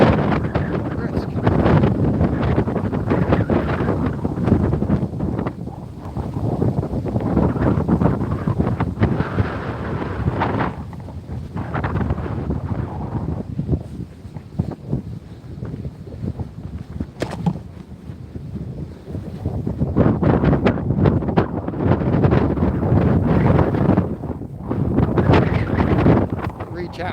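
Strong gusting wind on open water from a boat on a fishing trip, buffeting the microphone in a loud, continuous roar that swells and eases, with someone speaking briefly.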